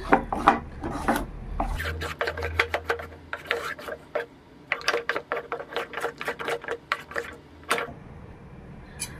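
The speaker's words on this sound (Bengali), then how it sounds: "আর এই বেসনটাকে খুব ভালো করে ফেটিয়ে নিতে হবে।" Gram flour (besan) batter for palm pitha being whisked in a bowl, heard as rapid, close, rasping scrapes and taps in quick uneven bursts with short pauses.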